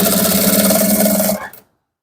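Sewing machine stitching a trouser waistband, a steady, loud, continuous mechanical whir with a fast even hum running alone for over a second before cutting off abruptly.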